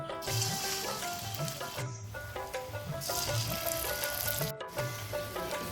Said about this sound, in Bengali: তেলটা গরম হয়ে গেছে এখন দিয়ে দিব কাঁকরুল